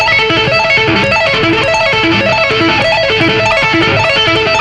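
Fast tapped electric guitar arpeggio built from hammer-ons and pull-offs, a dense rapid cascade of notes rippling continuously at high volume with no voices.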